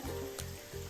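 Tuna pieces for pickle fry in a pan with a steady, close, continuous sizzle and faint stirring scrapes, without any talk.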